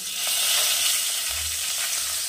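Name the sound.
finely chopped small onions frying in hot oil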